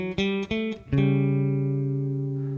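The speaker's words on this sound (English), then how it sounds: "That's the major 3rd and the flat 7 being played at the same time." A guitar sounds a major third and a flat seventh together: a few short plucked double-stops, then one sustained interval that rings out and slowly decays. Close and clear, no talking.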